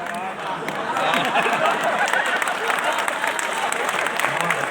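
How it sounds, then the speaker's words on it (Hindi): An audience at a political speech breaks into steady applause, a broad wash of clapping from a crowd that swells and holds, with voices talking over it. "फिर भी कई भाजपा वालों ने ताली बजाई, कांग्रेस वाले चुप गए"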